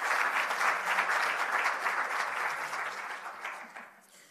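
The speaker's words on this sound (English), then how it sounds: "A round of applause to them as well." A round of applause from a symposium audience, steady dense clapping with no voices that fades out toward the end.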